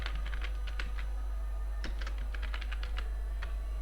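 Typing on a computer keyboard while writing Tally TDL code, a quick run of close, distinct key taps over a steady low hum, with no voices.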